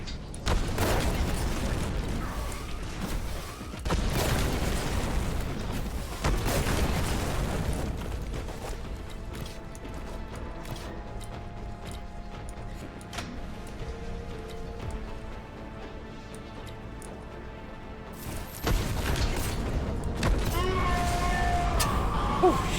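Rocket launcher blasts in the shooter game Warhammer 40k Boltgun, set in corrupted forges, come as loud, broadband booming bursts, with quieter rumbling and mechanical hum between the explosions.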